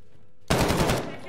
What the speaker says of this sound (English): Heard somebody shooting up out of the view.